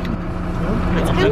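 Inside a moving bus, a steady low engine rumble and road noise fill the cabin while passengers talk over it.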